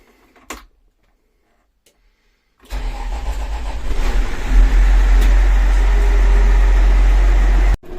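A Case 2188 combine engine cranks and starts after near silence, catching loudly and settling into a steady, heavy, close idle rumble that runs until an abrupt cut.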